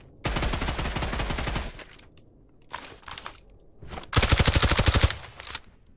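AUG rifle firing in the video game Badlanders: two loud, rapid full-auto bursts of about a second each, with a few short shots between them, crisp and close with no talk.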